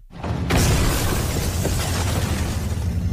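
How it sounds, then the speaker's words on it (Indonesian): In a film scene, a bomb blows up a house: a sudden loud boom after brief quiet, followed by a sustained rumbling roar of blast and debris that continues to the end without any speech. "sebuah bom meledak dan menghancurkan seisi rumah."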